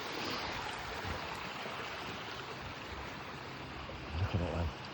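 Running water of a small stream near a waterfall on a countryside walk gives a soft, continuous rushing hiss throughout, fairly faint and steady, with a couple of low bumps near the end.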